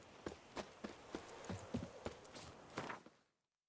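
Draft horse hooves clip-clop at a steady walking pace in The Witcher 3: Wild Hunt – Blood and Wine, about a dozen hollow knocks close by, before fading out into silence.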